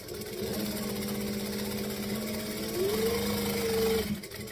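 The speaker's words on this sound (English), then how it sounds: "I just want to baste all of this down so it doesn't shift." A sewing machine basting a fabric panel, a steady close mechanical whir of rapid stitching that speeds up briefly near the end before stopping.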